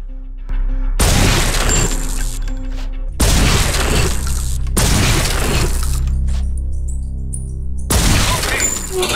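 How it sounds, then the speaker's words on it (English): Loud bursts of gunfire ring out at targets in the PS2 game True Crime: New York City, several dense volleys of shots with booming tails separated by short gaps, up close and dominating. "Now, locate the non-lethal area and fire away."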